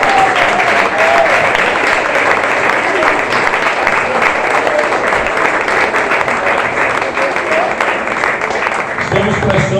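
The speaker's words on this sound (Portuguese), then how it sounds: "Vamos ficar de pé e vamos aplaudir o Senhor, porque Ele é digno." Congregation clapping in a church during an Easter Sunday worship service, a loud, continuous wash of applause from many people throughout, with a voice faintly audible underneath.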